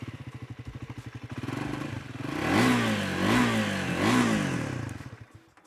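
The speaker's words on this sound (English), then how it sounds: "This one gets a stubby double exit exhaust, and not only looks good, it helps you in your off-road riding, and Triumph has also tuned it to be a bit bassier." A Triumph Scrambler 400 X motorcycle runs through its stubby double exit exhaust, tuned to sound bassier. It thumps at a lumpy idle, then revs up three times in rising blips before settling and fading.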